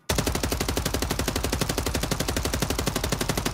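An assault rifle in Warzone 3 fires one continuous full-auto stream of evenly spaced, rapid shots for over three seconds, loud and close with no talk over it.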